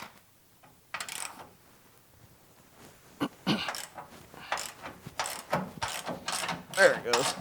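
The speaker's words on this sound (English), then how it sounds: "Grab a 19 millimeter socket and ratchet, and we'll get this front pin loose." A 19 mm socket on a hand ratchet works loose a leaf-spring front pin on a 2007–21 Toyota Tundra, with quick bursts of metallic ratcheting clicks, close and growing busier.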